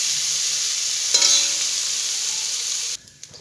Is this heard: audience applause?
no